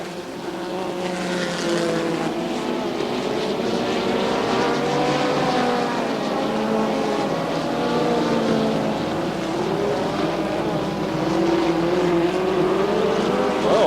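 A pack of NASCAR Winston late models or USAC midgets thunders down the back straight at Raven Raceway in 1987, a loud sustained roar of several engines with rising and falling pitch as the cars stream past.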